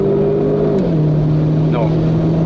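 Renault Clio 4 RS turbo engine pulling under acceleration, a steady loud drone inside the cabin with a brief rising tone near the end.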